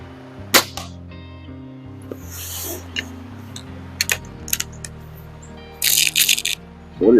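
A single sharp, close crack from a Diana Model 240 air rifle fired at 25 yards, followed by scattered light clicks and rattles in a quiet setting.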